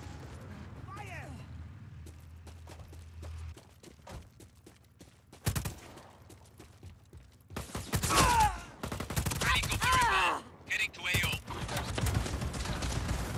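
Gunfire in the video game Just Cause 4, arriving as scattered bursts of shots and heavier blasts in the second half, loud and close, mixed with voices talking during the action.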